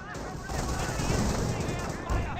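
An MG42 machine gun fires in a Company of Heroes battle, a dense continuous rattle of rapid shots mixed with battlefield noise and other game effects, steady and fairly loud throughout.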